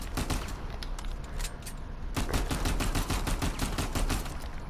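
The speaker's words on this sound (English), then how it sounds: "So let's just say I'm shooting, I'm gonna keep doing this" Automatic gunfire from the video game Uncharted 4, heard as a loud, steady stream of rapid shots that pauses briefly near the middle and then resumes in a second long burst, with no voices.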